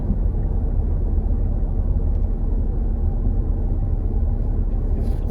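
Heavy low rumble from inside a moving car fills the clip, a steady loud road and engine drone with no breaks.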